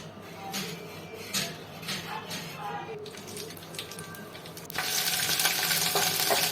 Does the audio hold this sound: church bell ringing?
no